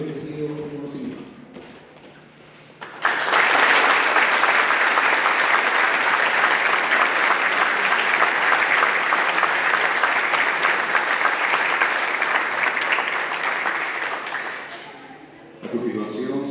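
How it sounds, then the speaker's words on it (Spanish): Loud, sustained audience applause at a book presentation in a hall, rising abruptly, holding steady for about twelve seconds, then fading, with speech briefly before and after. "les pido un aplauso que acompañe este póstumo pero muy merecido reconocimiento"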